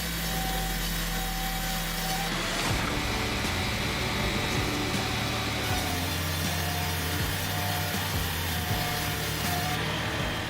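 A Vance log grinder reducing large logs into smaller pieces gives a loud, continuous grinding and sawing roar that runs through the whole stretch, with no voices.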